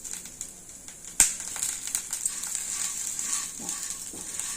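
Dried red chillies fry in a pan with a steady, bright sizzle, opened by a sharp crackle and followed by faint scraping stirs.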